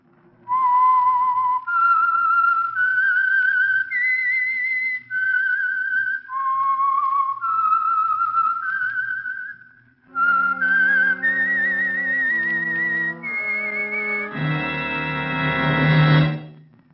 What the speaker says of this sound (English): this whistle that identifies the Signal Oil program, The Whistler